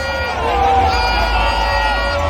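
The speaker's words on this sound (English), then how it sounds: "both fans are cheering up their teams" Football fans at Baba Yara Sports Stadium create a loud, dense crowd roar with sustained horn-like tones, and a nearby voice is mixed in with the cheering.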